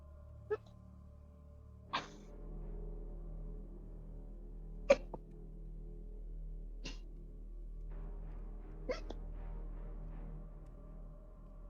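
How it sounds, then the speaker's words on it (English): A person hiccups during an online tabletop game session, giving several small, sharp, isolated hiccups spaced a couple of seconds apart over a quiet room hum. "Do you have the hiccups"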